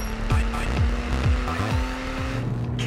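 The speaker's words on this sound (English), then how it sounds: "Next up the price list, the Porsche Cayman S." Porsche Cayman S sports car driving, its engine note climbing and dropping through repeated gear changes, fairly loud and close throughout.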